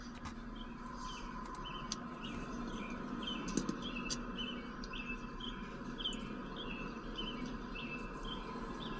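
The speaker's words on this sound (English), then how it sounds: "I like hearing the birds in the background." Birds chirp in repeated short calls beside a river under a bridge, faint and steady over a low background hum with no talk.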